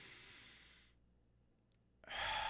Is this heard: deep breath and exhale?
yes